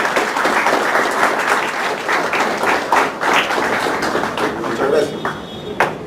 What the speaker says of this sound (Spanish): periodista Leonel Milton Falcón Guerra, para que le damos fuertes aplausos, por favor.